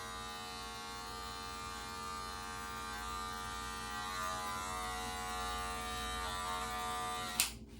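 A steady, close buzz of a Wahl Magic Clip or Andis GTX clipper trimming beard hair drones on continuously, with a sharp click near the end as it shifts.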